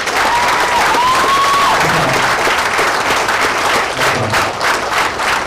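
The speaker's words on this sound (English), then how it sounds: "Can you join me in applauding this group here?" A graduation ceremony crowd applauds the graduates with dense, continuous clapping that fills the room, loud and sustained throughout, with faint cheers and voices mixed in.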